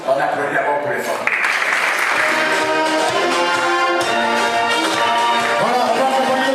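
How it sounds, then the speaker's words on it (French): Guests clap steadily through a Gabonese civil wedding evening reception, with loud continuous applause blended with music and voices. "Roberto, on applaudit d'abord pour les femmes."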